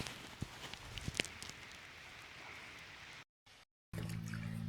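Steady rain falls outdoors during a bass fishing tournament, a soft, continuous patter with a few sharper drops, broken by brief gaps of near silence near the end.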